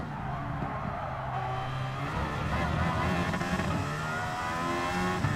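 Aston Martin Valkyrie engine in Gran Turismo 7 screaming at high revs and bouncing off the rev limiter, a loud, steady, dense drone with slight stutters and no talking.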